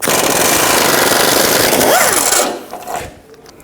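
A pneumatic impact wrench spins 15mm engine mount bolts loose on a 2009-17 Chevy Traverse, one loud continuous hammering burst of about two and a half seconds with a rising whine near the end, then fading to quiet rattles.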